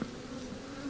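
Honey bees hum on a honeycomb frame partly capped with honey, a brief, steady, close buzzing drone with no voices.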